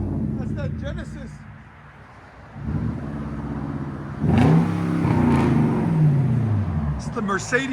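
A 2014 Hyundai Genesis R-Spec with a 5.0L V8, true dual exhaust and straight pipes, revs up loudly with a rising, throaty engine roar, sustained and close. It follows a quieter idle, and someone talks over it.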